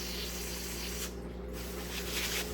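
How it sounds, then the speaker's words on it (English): Spray bottle misting the leaves of tropical houseplants such as a vanilla orchid and an anthurium indoors, several short close hissing bursts over a steady room hum. "Spray the leaves because it likes the leaves all soaked."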